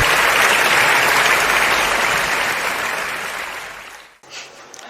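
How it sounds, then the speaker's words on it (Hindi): An audience at a Hindi kavi sammelan applauds poet Rajesh Kori, a loud, dense wash of clapping that holds steady for about four seconds and then fades out quickly. "आप सभी जोरदार तालियों से उनका स्वागत करें।"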